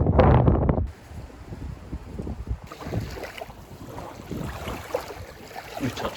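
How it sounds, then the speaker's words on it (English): Strong wind buffets the microphone beside the sea at Sendai, a loud, continuous low roar that gusts and rumbles, with a brief heavier blast at the start. "my hair is a mess because it's very windy"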